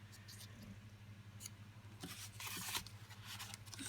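Scissors snip through paper leaves being trimmed narrower for a handmade greeting card, a few quiet close cuts with soft rustling over a steady low hum, louder crisp snipping near the end.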